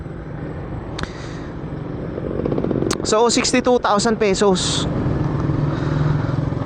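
A Keeway Cafe Racer 152 motorcycle engine idles steadily close by with an even, buzzing vibration, while someone talks over it for much of the stretch.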